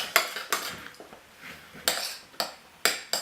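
A utensil stirs homemade lemon-lime scented slime in a bowl, giving repeated scraping clinks against the bowl in an uneven rhythm, close and moderately loud, with no talking.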